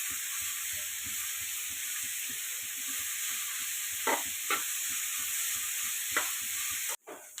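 Sliced onions sautéing with salt in a pan, a steady close sizzle with rhythmic stirring scrapes throughout and a few sharper clicks, ending with a brief clatter.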